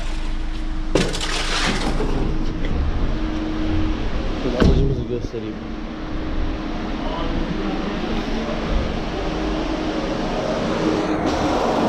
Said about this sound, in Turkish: İki adet fan var. İkisi de şu an çalışıyor.